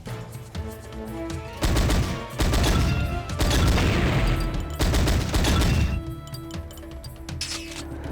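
Video-game explosions in Powerslave: loud, crackling bursts of blasts and debris that come in clustered waves, separated by brief quieter gaps.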